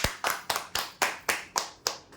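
Crisp hand claps ring out in an even, rapid rhythm, about eight in quick succession, greeting a winner at a prize draw event; no talking.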